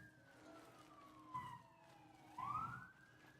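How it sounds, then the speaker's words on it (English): Emergency vehicle sirens wail in a city, distant and faint, with slow rising and falling tones drifting behind steady background hum. "I don't know if you can hear the sirens in the background."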